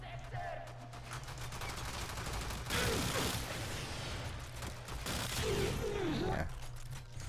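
Kuva Kraken gun firing its alt fire in the Warframe video game, dense bursts of rapid mechanical gunfire that swell and fade over several seconds, loud and close, with a voice talking over part of it.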